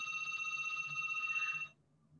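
Telephone ringing indoors with a steady electronic bell tone, one continuous ring of about 1.7 seconds that cuts off abruptly, leaving faint background hum.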